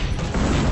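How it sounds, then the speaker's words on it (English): A dense, booming explosion rolls out loud and close for under a second in the Transformers: Dark of the Moon mobile game. "Oh god, more Michael Bay explosions."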